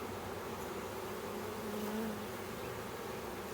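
Honeybees hum steadily and close by during a hive inspection of worker bees on frames, a continuous droning buzz that rises slightly midway.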